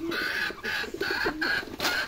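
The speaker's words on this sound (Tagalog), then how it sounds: "Yung kalapati natin, oh." Pigeon cooing repeats in short bursts, about five in two seconds, close and fairly loud against a steady outdoor background near a pond, with no talking.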